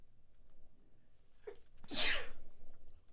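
A single loud sneeze bursts out near the microphone after a faint intake of breath, standing alone against quiet room tone.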